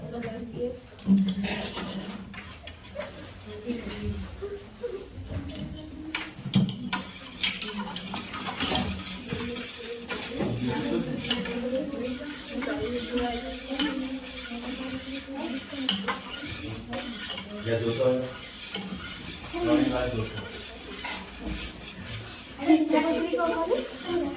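Schoolgirls stir homemade lemonade, a spoon clinking and scraping against a vessel in repeated swirls while voices talk over it throughout.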